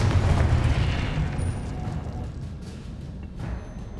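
A Confringo spell explosion in Hogwarts Legacy lands as a heavy, rumbling boom at the start, then decays into a long, fading crackle and debris rumble, loud and close before settling to a lower tail.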